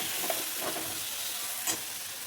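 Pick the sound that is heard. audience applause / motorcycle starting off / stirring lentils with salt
stirring lentils with salt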